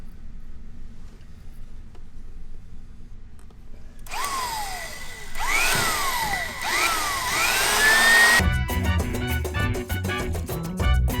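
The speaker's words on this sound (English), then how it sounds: "We're going to drill the other one." A power drill drilling into a concrete floor whines in short bursts, rising and falling in pitch, then grinds steadily and loudly at the end against a low background hum.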